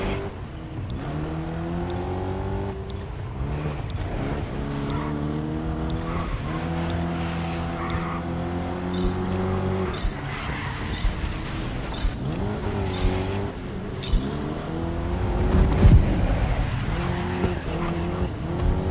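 Race cars in the racing video game GRID Legends roar and rev with shifting engine pitch and tire squeal, ending in a louder crash burst near the end, loud and continuous with no talk.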